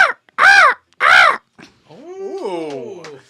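A man imitates a crow with his voice, giving two loud harsh caws followed by a brief grunt and then a drawn-out, wavering croaking call.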